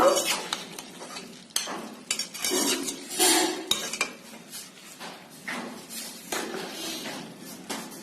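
Chicken being stirred in a metal pot with a utensil after hot water goes in, for Bengali chicken kosha; repeated close scraping and clinking strokes in an uneven rhythm, fairly loud, with no talk.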